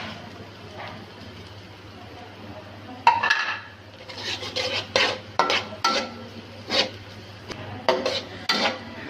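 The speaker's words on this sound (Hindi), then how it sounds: "प्याज को थोड़ा सा हमने फ्राई करना है। प्याज, ये हरी मिर्चें," Onions and green chilies frying in a pan for Chinese-style rice: a steady low sizzle underlies repeated scraping and stirring strokes of a spoon against metal, growing busier partway through, with a voice speaking at times.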